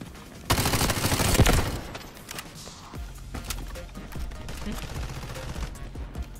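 Gunfire in the Delta Force: Hawk Ops extraction shooter, a loud dense burst of rapid shots near the start, then quieter scattered shots, movement and footsteps against steady game ambience.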